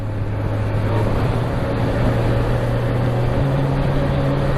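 A 2020 Kawasaki Ninja 1000 SX engine drones loud and steady while riding, its pitch stepping up near the end as a gear changes without the clutch.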